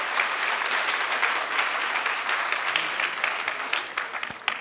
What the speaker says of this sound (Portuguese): Pode dar uma salva de palmas aí aos historiadores